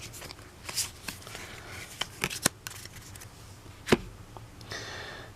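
Playing cards riffled and flicked through by hand in a tabletop game deck, a run of quick, close papery snaps and shuffles with a sharper slap near the end, no talking.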